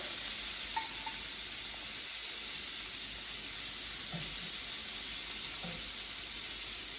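Extra large shrimp frying in a hot pan, a steady, even sizzle filling the whole stretch with faint clicks of handling, no voices.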